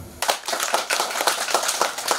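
Crowd clapping at a campaign rally in Manggarai: distinct, rhythmic claps from many hands starting abruptly after a short pause, fairly close and loud throughout.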